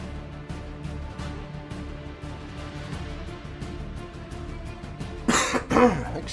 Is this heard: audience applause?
no